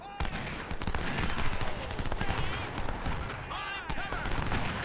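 Artillery fire in a Civil War battle game at Stones River: dense, continuous rumbling volleys of cannon and musket fire, loud and sustained throughout, with mixed battle noise layered over it.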